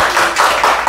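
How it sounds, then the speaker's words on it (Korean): Audience clapping at a Korean community talk event, a dense continuous patter of many hands filling the short moment without speech. "박수 한번 치세요."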